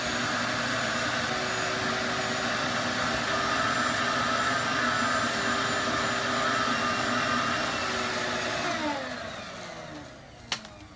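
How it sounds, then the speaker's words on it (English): A vacuum cleaner pulls dirt from a car's carpet during mobile detailing, a steady loud whine and rush that holds up close for several seconds, then drops and fades near the end. "go ahead and vacuum as much dirt as I can get out of it before I start shampooing the carpet"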